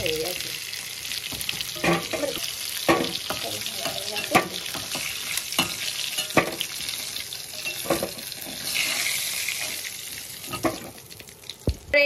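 Sea crab fries in hot oil with a steady sizzle, broken by sharp scraping stirs and clinks of a utensil against the pan, fairly close and loud with no talking.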